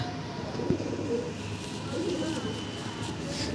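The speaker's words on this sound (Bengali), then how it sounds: "এবার দেখুন একটা সাদা পায়রা" A white pigeon at a pigeon market in Kolkata gives a few soft, low coos against a murmur of background noise, with someone talking nearby.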